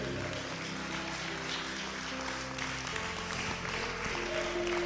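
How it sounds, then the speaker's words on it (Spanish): Steady applause from a crowd, fairly distant and even, continuing without pause. "Dale un aplauso al Rey."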